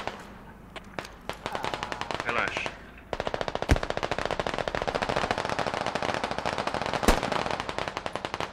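Rapid mounted machine gun fire in a video game rattles in long, even bursts, after a few scattered shots and a brief pause, with occasional sharper louder cracks.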